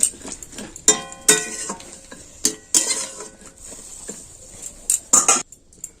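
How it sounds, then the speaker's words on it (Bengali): Boiled carrot pieces stirred in a metal pot, with irregular scrapes and clinks of the utensil against the sides over a soft sizzle, close and fairly loud. "আবার এটাকে আমি নেড়ে চেড়ে নিচ্ছি"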